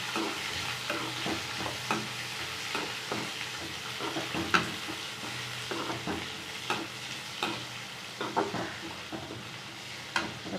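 Sautéed pirandai is stirred in a frying pan, giving a steady sizzle and frying hiss with scattered soft scraping and tapping strokes, close up and moderately quiet, with no talking.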